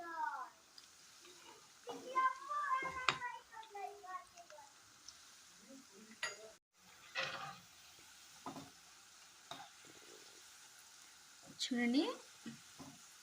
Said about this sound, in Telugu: ఇలా అటు ఇటు కలుపుతూ వేగించుకోవాలండి గోల్డ్ రంగు వచ్చేదాకానే.